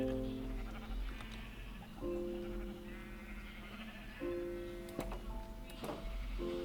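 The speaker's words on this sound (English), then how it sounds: "Yellow sheep? What is the yellow sheep doing out here?" Blocky Minecraft sheep bleat in a short series of nasal, wavering calls, moderately loud against a steady background with a few faint clicks.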